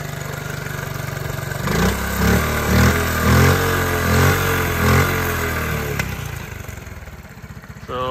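A 1986 Honda Z50R mini bike's small engine runs steadily nearby, with a throbbing low idle that pulses through a brief rise in revs before settling back, loud and alone with no voices.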